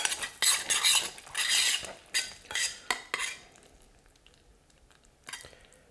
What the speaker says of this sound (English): I'm gonna ladle some of that sauce on top of it